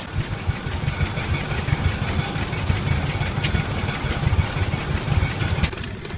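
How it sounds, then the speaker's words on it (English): An antique tractor engine running at an outdoor gas engine show, a steady low rumbling chug that stays constant throughout, with faint crowd noise and a couple of light knocks in the background. "I don't know much about old school tractors like this, but it sure is neat watching them work"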